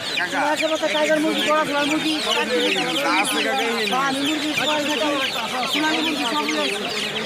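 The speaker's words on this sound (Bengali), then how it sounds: "এটা কি মুরগি" Chickens cluck densely and continuously at a rural weekly poultry market, loud and close, with people talking among the birds.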